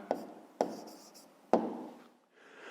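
Pen or marker strokes on paper while writing down a math answer, three sharp taps each followed by a short scratchy stroke, close and fairly quiet, with no talking.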